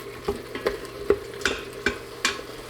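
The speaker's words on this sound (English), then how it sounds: "Next we're going to stir in our garlic and let that saute just for maybe 10, 15, 20 seconds" Garlic sautéing with mushrooms in an Instant Pot, a spoon scraping and stirring in about six short, evenly spaced strokes over a soft steady sizzle, close up, with no talking.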